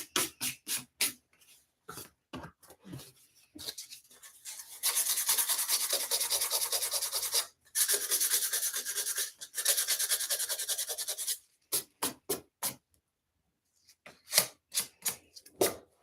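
Sandpaper rubbed by hand over punched holes in book board for a single-needle coptic binding, heard as short rasping strokes, then two long sustained scrubbing passes, then more quick rhythmic strokes, close and fairly loud with no talking.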